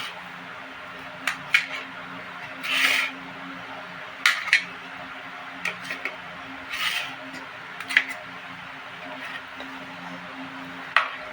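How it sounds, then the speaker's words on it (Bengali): A knife cutting peeled potatoes into halves on a board, sharp scattered clicks and taps at irregular intervals in a quiet kitchen. "সব আলুগুলো এরকম 2 পিস করে নেব।"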